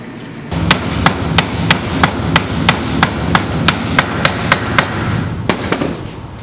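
A hammer strikes a metal punch to countersink a can punch bottle opener in a high school metalwork project, about fourteen sharp, evenly spaced metallic blows that ring loud and close, with a short pause before the last few.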